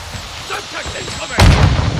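Gunfire in a combat video game, a burst of shots that suddenly swells louder and denser near the end, rising over a busy background of battle noise.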